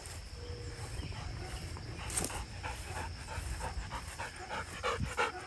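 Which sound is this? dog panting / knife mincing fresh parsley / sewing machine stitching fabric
dog panting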